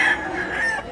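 Chicken in Mantalungon, Barili, giving a steady, fairly close call lasting under a second, with no one talking over it.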